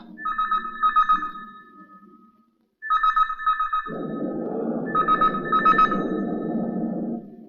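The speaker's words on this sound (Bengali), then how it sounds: "দেখো তো কার ফোন এলো।" A telephone rings in repeated electronic bursts with short pauses between them, and a dense rumbling noise joins under the later rings.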